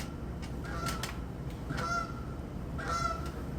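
Geese honk in a few separate bursts, each a short nasal call over steady outdoor background noise, at moderate distance.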